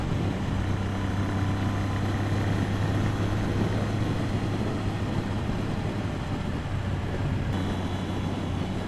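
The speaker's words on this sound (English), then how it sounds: "I do like these old Triumph 900s. They're a grunty old bike." An old Triumph 900 motorcycle engine runs at a steady idle, a constant low grunty drone with a hum beneath, close and even for the whole stretch with no talking.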